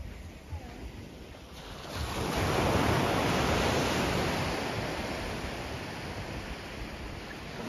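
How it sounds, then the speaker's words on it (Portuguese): Surf breaking on Daniela beach in Florianópolis on an overcast late-winter afternoon, a steady rushing wash of waves that swells louder midway, mixed with wind buffeting the microphone. "Vou fazer uma caminhadinha aqui na praia pra vocês conhecerem a praia de Daniela"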